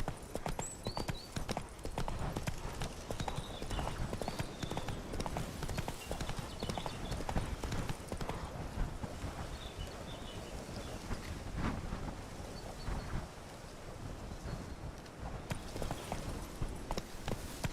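Hooves of a galloping horse in the Witcher 3 video game beat in a steady, fast clip-clop rhythm, continuous over faint wind-like ambience and moderately quiet.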